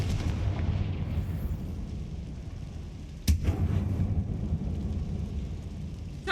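The Confringo fire spell from the Hogwarts Legacy video game goes off inside an old mine tomb. It gives one sharp, loud blast midway through a dull, rumbling game ambience.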